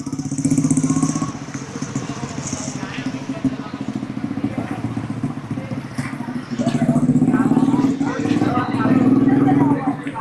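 A motorcycle rides through a narrow, busy lane of Jodia Bazar wholesale market, its mid-pitched engine drone rising as it passes nearby amid crowd noise and people talking.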